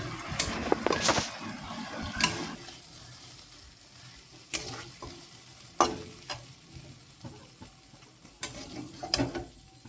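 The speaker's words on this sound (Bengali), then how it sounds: "ওর মধ্যে ভেজে রাখা আলু দিয়ে দেবো। বেশ আলু দিয়ে বেশ খানিকক্ষণ কষাবো।" Fried potatoes are stirred into a spice masala in a pan for a vegetarian potato curry, giving a soft continuous sizzle punctuated by clattering spatula scrapes against the pan.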